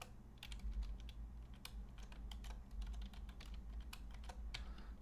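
A password is typed on a computer keyboard in a run of quick, uneven key clicks, close but quiet over a low background hum, with no talking.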